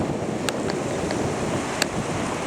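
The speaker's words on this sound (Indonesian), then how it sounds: "Saat ini angin masih bertiup kencang," Strong wind buffets the microphone atop the long Pandansimo bridge, a steady broadband roar with faint clicks scattered through it.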